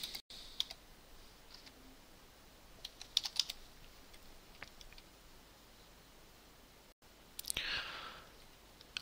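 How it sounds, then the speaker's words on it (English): Someone types a translation into OmegaT 3.0.8_3 translation software on a computer keyboard, with soft scattered keystrokes and brief bursts of clicking over a faint hiss of room noise, no voice. "so I can start typing my translation here."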